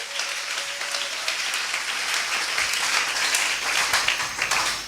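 A church congregation applauds during a Sunday service, making dense, sustained clapping from many hands that fills the room at an even level for several seconds.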